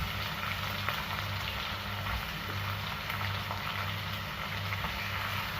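Tomatoes and chicken sautéing in a pan for sinigang, a steady close sizzle and crackle with a low hum underneath and no voices.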